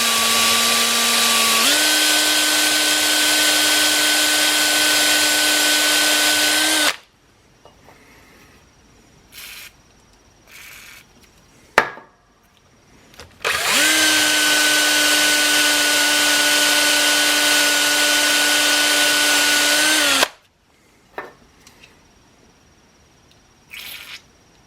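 A power drill with a bit boring into a steel railroad spike, running in two long steady bursts of whining motor and grinding, each several seconds long, separated by quieter pauses with clinks and handling noises.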